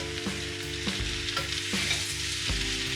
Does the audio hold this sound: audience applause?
no